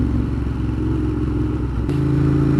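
A 2015 Ducati Monster 1200 fitted with a Termignoni exhaust runs loud and close, its engine note steady and then shifting into a deeper, fuller tone near the end, with no talking.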